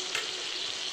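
Tomatoes fry in a pan with salt and turmeric, giving a dense, even sizzle that holds steady through a short moment with no talking.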